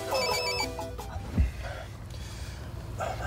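A cell phone ringtone chiming a short melody nearby, loud for under a second before it cuts off, followed by a sharp breath and quieter room noise.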